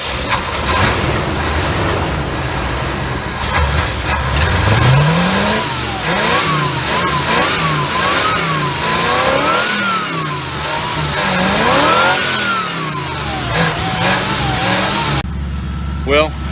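A 1971 Mercury Monterey wagon's engine runs loud and close, revving up and down in repeated rising and falling sweeps over a rough idle, with a voice talking at times.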